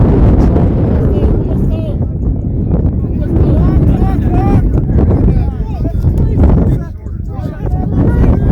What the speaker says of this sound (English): Wind is starting to get higher and higher.